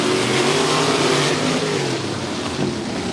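Hobby stock race cars at Stuart Raceway accelerating together after a green flag, a loud, dense roar of engines that stays steady and continuous with no voices.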